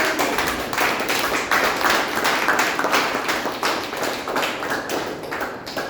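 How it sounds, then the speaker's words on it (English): Applause from a Toastmasters club meeting audience honouring its EC members: a steady round of many hands clapping, dense and sustained for about six seconds, tapering slightly toward the end, with no talk over it. "So round of applause for all our good."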